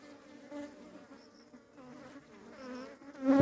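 Honeybees buzzing close by, with drone bees mixed into the swarm, making a continuous droning hum that swells louder toward the end.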